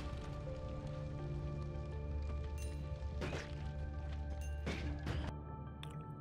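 Rain pours from a rain cloud in a video game, a steady wet patter with drips and soft splats over a constant game hum, broken by a few sharp transient hits.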